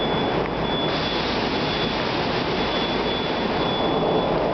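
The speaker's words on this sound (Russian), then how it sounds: "Это обкаточный поезд." A break-in test run of an Oka metro train passes through Rasskazovka station with a loud, steady, close rumble and whoosh, and a thin high tone persists over the whole pass.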